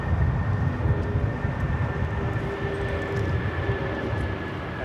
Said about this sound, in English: This is Air China 988 taking off to Beijing